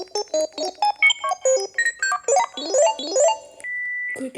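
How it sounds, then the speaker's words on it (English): A Panasonic KX-TPA60 cordless handset plays a bright electronic ringtone, a quick run of short melodic beeps climbing and falling in pitch and ending on one held tone, close and clear with no voices. "that's how you change your ringtone on a Panasonic phone"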